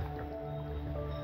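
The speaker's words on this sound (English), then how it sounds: "So I add enough water to cover the duck" Water is poured over a whole duck in a cooking pot for a Vietnamese duck and young bamboo shoot dish, a steady close splashing gush with faint drips and no talking.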